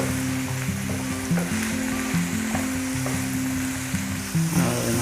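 Chopped tomatoes sizzle and sauté in a hot pan while being stirred for a white bean and beef pata stew, a steady close frying hiss with faint stirring scrapes and no talk.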